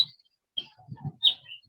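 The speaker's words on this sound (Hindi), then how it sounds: "चिड़िया की आवाज ज्यादा आ रही है" Birds chirping in the background of an online meeting: a few short, high tweets and calls come in bursts over quiet gaps, with soft low murmuring underneath.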